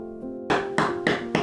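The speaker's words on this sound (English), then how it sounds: "When you are working with soft rocks, you want to hammer them into smaller chunks" Soft rocks hammered into smaller chunks: four sharp, close strikes land at a steady, unhurried rhythm after a faint hum, with no talking.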